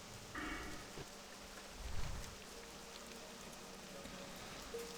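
Heavy rain falls in World of Warcraft Classic as a steady, dense downpour hiss that fills the whole stretch, with a brief low rumble partway through and no voices.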